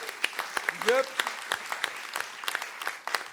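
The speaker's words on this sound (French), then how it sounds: "Qu'on peut applaudir" Scattered, sparse hand claps from an audience at the grand opening of the SHAKA Festival 2025, with a voice briefly speaking over them.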